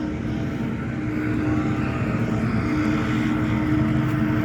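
A steady, loud motor drone with a low tonal hum, continuous throughout, like a leaf blower running nearby.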